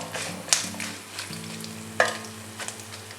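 Onion and spices frying in a pan, a steady sizzle with occasional sharp pops and clinks of stirring against the pan, close and moderately loud, with no talking.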